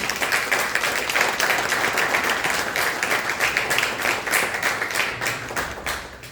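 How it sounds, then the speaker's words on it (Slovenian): A room of guests at a municipal business and economy gathering breaks into sustained applause, dense steady clapping that carries on for several seconds before thinning out at the end. "Morda za začetek aplavz za vse, ki so prišli."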